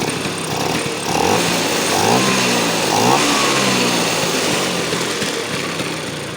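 A secondhand Vespa scooter engine runs steadily close by, its buzzing rising and falling slightly as it idles and revs, with no talking.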